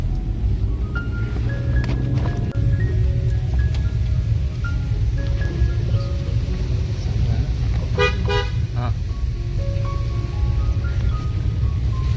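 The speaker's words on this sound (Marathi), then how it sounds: "गाडी सुटली आपली" A vehicle sets off and drives through rain: a steady, loud wash of road noise and rainfall with a dull engine rumble underneath, punctuated by several short horn toots.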